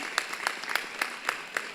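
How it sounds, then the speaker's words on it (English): Clapping from an audience at a British Pakistani awards ceremony, a thin patter of separate claps at a moderate distance, fairly faint and steady with no talk over it. "a big round of applause again, ladies and gentlemen"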